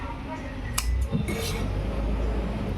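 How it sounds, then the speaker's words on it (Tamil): A tailor's scissors cutting a blouse sleeve: a couple of crisp metallic snips and clinks close by, with a low background hum and a voice speaking. "இப்போ ஸ்லீவ் கட் பண்ணுறீங்க"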